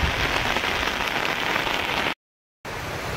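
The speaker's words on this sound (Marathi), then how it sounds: "जोराचा पाऊस आहे, ह्याच्याहून जोराचा, आणि जास्त जर पडला तर नदीला पाणी येणार।" Heavy rain pouring on a banana farm, a dense, loud, continuous hiss of drops that cuts off abruptly into silence for about half a second before resuming just as strong.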